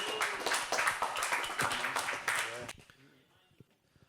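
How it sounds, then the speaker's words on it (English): Audience applause for a DJ at a Tea Breaks and Beats event, a burst of clapping and cheering mixed with voices that fades out after a few seconds into quiet room sound. "Can we have a round of applause for Mr."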